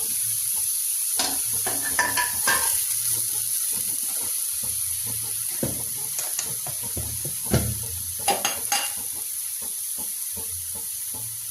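Bottle gourd pieces fry in oil in a kadai, a soft steady sizzle broken by scattered spatula scrapes and clinks against the metal pan, close by.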